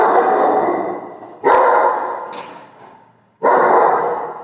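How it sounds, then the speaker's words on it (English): A dog barks close and loud in three separate bursts, each fading away before a short silence and the next round. "dog just started barking."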